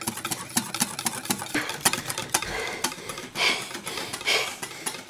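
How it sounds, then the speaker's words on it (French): A whisk beats mayonnaise by hand in a bowl set on a kitchen counter, making rapid, regular, close clicking strokes that keep up with a steady rhythm and no talking. "Fais ta mayonnaise au fouet!"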